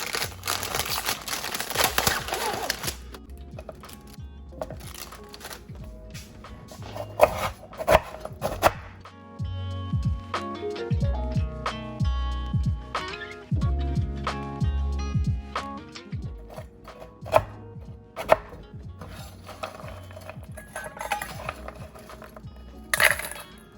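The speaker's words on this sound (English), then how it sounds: "We're gonna take about 15 cookies, roughly chop them, and place them in this bowl." A knife roughly chops about fifteen Chips Ahoy cookies on a board in dense bursts of crunchy thuds and crumbly crackles, close and fairly loud, with short pauses between flurries and some crinkling bits.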